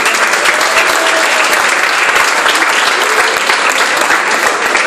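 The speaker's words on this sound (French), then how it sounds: "je voudrais que vous faites donner l'applaudissement pour ces personnes" An audience at a Miss Prestige Réunion pageant bursts into sustained, full applause for the patients, steady and close throughout without letting up.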